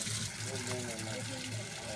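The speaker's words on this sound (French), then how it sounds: "La recharge est faite et l'eau jaillit à nouveau." Water gushes again from a tap fed through a prepaid card-recharged meter: a steady rushing flow runs throughout, close and moderately loud, with a voice faintly speaking underneath.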